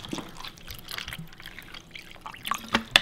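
Room temperature water poured to make tea, a soft, faint trickle and drip running throughout with a few sharper splashes near the end, no talk.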